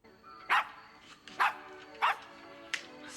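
A dog barks four times in a film scene, sharp, fairly close and evenly spaced over a quiet background.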